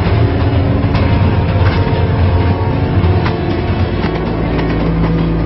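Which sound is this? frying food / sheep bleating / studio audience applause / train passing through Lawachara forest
train passing through Lawachara forest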